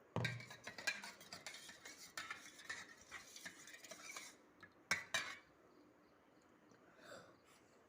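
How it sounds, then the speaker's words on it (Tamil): Washing powder stirred into yellow-coloured water for a pH indicator experiment: quiet, rapid clinking of a metal spoon against a container in uneven bursts, then fading to near silence. "இப்போ நம்ம இந்த வாஷிங் பவுடரை மிக்ஸ் பண்ண போகிறோம்"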